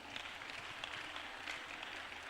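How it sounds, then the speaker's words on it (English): Church congregation clapping hands during a lively Friday night worship service, steady quick rhythmic clapping heard faintly in a large room. "Clap your hands for Jesus"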